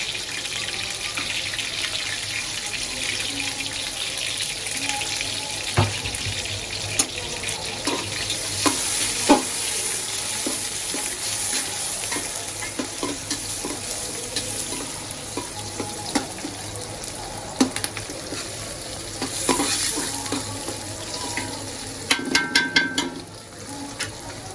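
Onions frying in hot oil with bay leaf, garam masala, cinnamon and cardamom, a steady sizzle broken by clinks and scrapes of stirring, with a brief run of water near the end, for beef bhuna and nawabi pulao.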